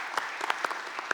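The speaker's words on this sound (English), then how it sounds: "Please give them a round of applause." Applause at a committee budget hearing, a light scattering of individual claps at moderate level, uneven and sparse rather than a full ovation, with no speech over it.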